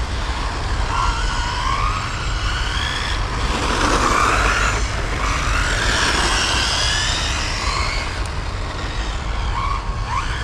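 A 1985 BMW M3 model car on an FTX chassis whines under half throttle, a steady high-pitched electric motor buzz that swells and fades as it runs nearby, with no voices.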